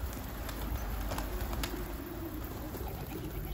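Pigeons coo near a rooftop loft, soft low murmuring calls repeating under constant outdoor background noise at moderate distance.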